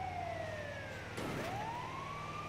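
A video game emergency vehicle siren in GTA wails, sweeping down and back up in pitch, steady and fairly loud, with a low engine rumble underneath.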